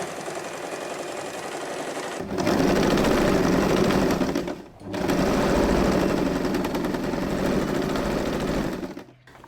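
A sewing machine stitches the corners of a boxy zipper pouch in two long steady runs, separated by a short pause and ending with a stop, loud and close with no voices.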